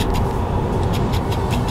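Steady road and tyre rumble from inside a Tesla Model 3 driving itself on autopilot, a constant close cabin drone without talk.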